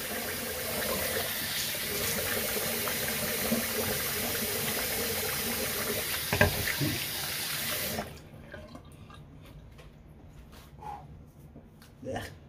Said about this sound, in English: just pure water under a running faucet, light running water under the sink